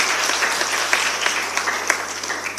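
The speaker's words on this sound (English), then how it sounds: "I think we deserve a round of applause for that." Conference audience applause at the She Builds Conference, with many hands clapping in a continuous wash and a few sharper individual claps standing out.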